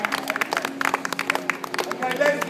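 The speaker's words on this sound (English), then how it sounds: "Big applause for Simon." An audience applauds a blindfolded juggler after a knife-juggling trick, a dense patter of clapping with crowd murmur and voices mixed in.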